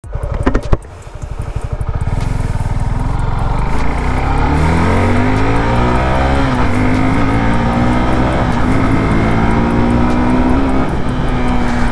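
A 2021 Suzuki Gixxer SF 250 BS6 motorcycle, a 250cc sports tourer, revs up and pulls away, its loud engine note rising and falling through gear changes, steady and close with no talk.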